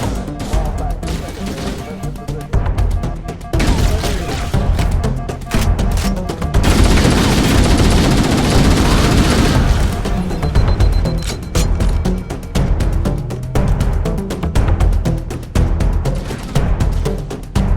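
Sustained gunfire in the Halo Master Chief Collection on Xbox One: dense, loud bursts of automatic shots rattling almost without pause, peaking in a heavy, unbroken barrage midway before settling back into choppy volleys.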